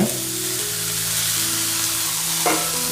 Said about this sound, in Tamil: அதுக்கப்புறம் புதினாவையும் சேர்த்து போட்டுருங்க.